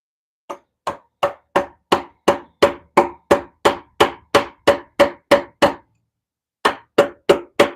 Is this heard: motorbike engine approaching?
no